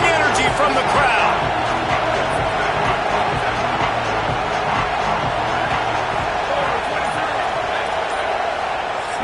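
A packed stadium crowd in a college football video game roars with a constant, loud wash of cheering and noise through a 3rd-and-goal defensive stand, with a commentator talking over it.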